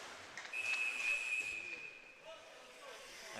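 A referee's whistle sounds at an ice hockey game, one sharp, sustained shrill tone lasting about a second over faint arena crowd noise.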